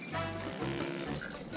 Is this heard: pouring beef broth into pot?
yes